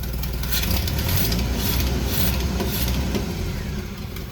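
An old Jeep engine running steadily after a carburetor fix, a close, loud, continuous rumbling idle with a rough, uneven beat from poor ignition timing.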